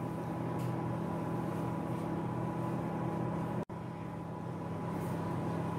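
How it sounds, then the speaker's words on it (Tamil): A microwave oven hums steadily while cooking an apple oats mug cake, a constant close drone with a mechanical tone throughout and a single very brief dropout near the end. "இது just half a minute வந்து நம்ம மைக்ரோவேவ் பண்ணிக்கலாம்."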